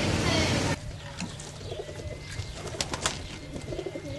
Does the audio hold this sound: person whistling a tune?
no